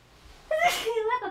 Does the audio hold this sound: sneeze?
yes